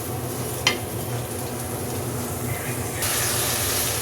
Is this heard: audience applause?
no